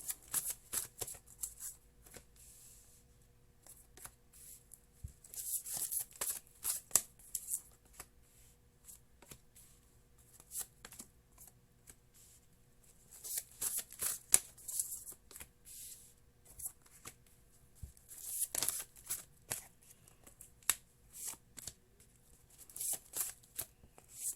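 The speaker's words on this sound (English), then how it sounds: "One more shuffle, they say." Tarot cards are shuffled repeatedly in bursts of riffling and rustling, close up, with quiet pauses between each round.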